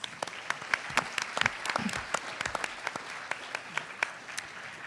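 Audience at a senior summit claps for the event's sponsors, a scattered round of distinct, sharp handclaps close by with a steady crowd wash beneath, some murmuring voices mixed in.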